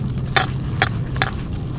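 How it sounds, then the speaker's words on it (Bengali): A whisk beats thin gram flour batter with water in a bowl, with three evenly spaced clinking strokes over a steady wet churning sound, close and fairly loud. "বেসনটাকে একটু ভালো করে ফিটিয়ে নেব"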